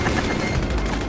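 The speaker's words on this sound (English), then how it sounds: "Crouching to shoot at me" Automatic gunfire rattles in Vampire: The Masquerade – Bloodhunt, a dense continuous stream of rapid shots with a booming low end, close and loud for the whole moment.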